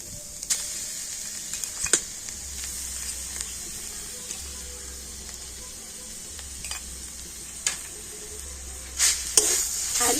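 Grated coconut and cane jaggery being stirred in a wok while making a ripe palm sweet, with a steady sizzle, scraping spoon strokes and a few sharp clinks against the pan, no talking.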